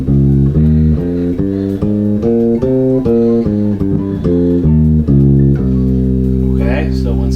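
A bass guitar plays the Phrygian mode on C as a run of clear, evenly spaced notes, ending on one sustained low note. The notes are loud and close, with no talk over them.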